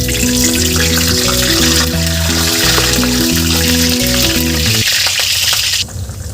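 Ground masala paste sizzling in hot oil with mustard seeds and cumin, cooking for a Maharashtrian pavtyache kalvan (popat bean curry); a steady, loud frying hiss under background music, easing off near the end.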